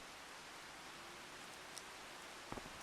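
Steady rain falling in the video game Farming Simulator 25, a soft, even hiss of quiet downpour running throughout, with a couple of faint drop-like taps near the end.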